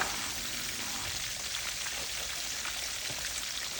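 Southern-style fish fries in oil that is not too hot, making a steady, fairly soft crackling hiss like light rain, even and continuous with no voices.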